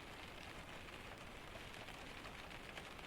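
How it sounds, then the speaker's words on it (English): Steady rain falling outside a quiet room, a soft continuous hiss with fine pattering drops, even and unbroken throughout. "The rain simply continues and will continue long after everything in this room has gone quiet and dark."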